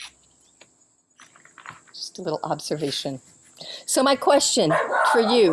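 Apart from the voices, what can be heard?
dog barking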